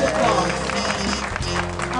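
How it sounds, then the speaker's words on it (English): Convention audience at the 2009 Candelarians gathering gives loud, continuous applause, a dense wash of clapping that holds steady for a couple of seconds. "huge applause."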